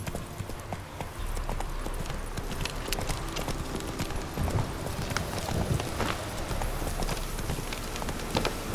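Hooves of a horse galloping in the video game The Witcher 3: Wild Hunt, a quick steady clip-clop rhythm running continuously at moderate volume.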